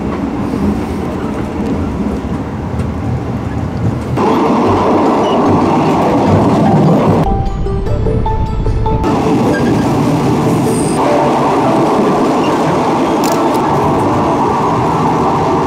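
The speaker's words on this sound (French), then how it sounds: "nous prenons le train de nuit" A night train in Asia rolls along steadily with a loud, continuous rumble and rhythmic rattling of the cars, the noise shifting in tone as it passes different surroundings.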